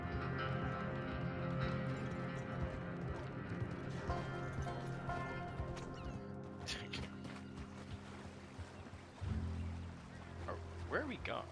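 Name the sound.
horse hooves while riding in video game Red Dead Redemption 2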